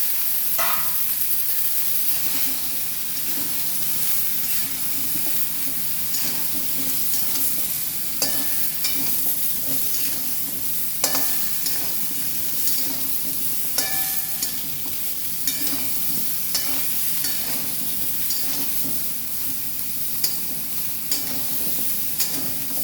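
Pointed gourd and potatoes fry together in a pan with an even, continuous sizzle, dotted with light clicks and scrapes of stirring, and no voices.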